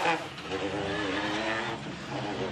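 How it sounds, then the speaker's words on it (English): Cars idle and rev in the paddock at a World RX rallycross round in Portugal, a continuous close engine drone with voices and general crowd murmur mixed underneath. "You can hear on the microphone we are right in the heart of the paddock."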